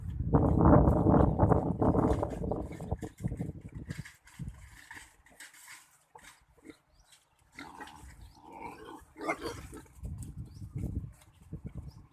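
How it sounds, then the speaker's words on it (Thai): Wild boars kept in a homely farm pen grunt and snuffle close by, loud bursts of grunting at the start that fade into quieter rustling and intermittent snorts. "หมูป่ายังแบบบ้านๆ"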